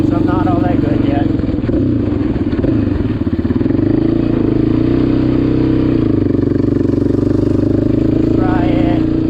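A 2006 Yamaha Raptor 700 ATV rumbles loud and close while being ridden, its engine droning steadily with a few rising revs, and people talk over it.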